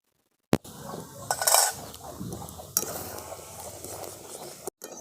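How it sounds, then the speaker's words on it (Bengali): Gobindobhog rice sandesh mixture with milk powder and ghee being stirred in a pan, with scraping and clinking of the spoon against the metal, a faint sizzle underneath and a voice talking over it. "এরপর এটাকে ক্রমশ নেড়ে নেড়ে একটা শক্ত ডোতে পরিণত করে নিতে হবে"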